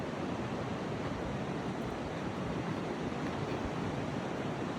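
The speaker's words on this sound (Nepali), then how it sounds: "हेर्नु खोला छ, यो मर्स्याङ्दी खोला हो।" The Marsyangdi river rushes through a rocky mountain gorge along the road from Manang toward Tilicho Lake, giving a dense, even, unbroken roar of white water with no voices.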